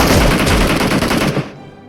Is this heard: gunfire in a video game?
yes